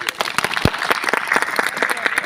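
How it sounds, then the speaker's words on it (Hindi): A crowd at an outdoor political gathering in rural India applauds loudly and close by, a brisk dense patter of clapping that continues throughout. "अच्छा लगा हो तो आप लोग ताली बजा दीजिए।"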